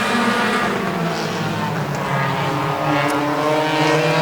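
Race cars at a Hobbyfest heat race roar down the back straightaway, a loud, steady engine drone with overlapping motors as they drag race side by side.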